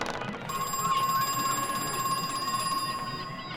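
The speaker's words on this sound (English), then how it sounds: "We got a phone call coming from somewhere." A phone rings in the horror video game Crow Country, a steady, shrill electronic trill that continues unbroken for several seconds at moderate loudness over faint ambient noise.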